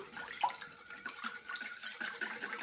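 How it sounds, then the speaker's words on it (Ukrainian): A whisk beating egg, sugar and salt together in a bowl, giving faint, quick, rhythmic scraping and clicking strokes with a wet, splashy edge. "І все гарно перемішуємо вінчиком"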